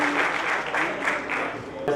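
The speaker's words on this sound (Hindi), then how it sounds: "आप खूब जबरदस्त तालियों से डॉक्टर साहब का स्वागत करें" Audience clapping at a hospital oath-taking ceremony to welcome a doctor, a dense continuous patter of many hands filling the room, steady and fairly loud with slight swells throughout.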